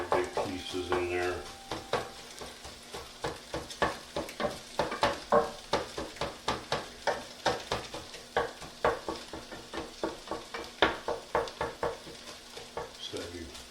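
Chicken fried rice sizzles in a hot pan while a utensil chops and stirs it, producing steady rhythmic scraping knocks roughly twice a second over the continuous sizzle, close and moderately quiet.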